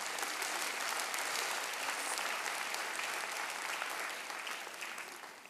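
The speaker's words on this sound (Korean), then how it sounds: "우리 하나님 앞에 영광의 박수를 올려드려." A church congregation claps steadily during a Sunday worship service, dense and even applause that holds strong and then thins slightly toward the end.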